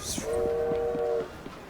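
A steady two-tone train horn blares for about a second over rhythmic rail clatter in the video game Assassin's Creed Syndicate, then fades as the clicking continues.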